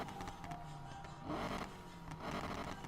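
A drag car engine in the racing game Need For Speed Payback rumbles low and gritty, swelling in two revving surges over roughly three seconds with no one talking.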